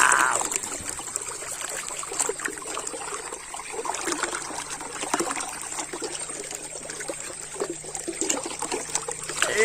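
Water flowing and trickling steadily in the dinosaur park video game Jurassic World Evolution 2, a continuous soft liquid wash with faint splashy detail throughout, no voices.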